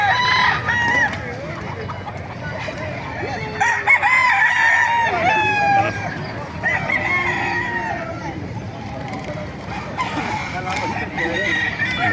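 Roosters crow repeatedly over a busy chorus of clucking hens, with a faint voice talking in the background.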